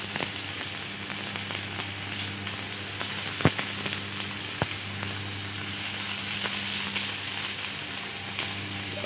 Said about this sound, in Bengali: এখন কুচি কুচি করে রাখা পেঁয়াজগুলো এটাতে দিয়ে দিব কুচি করে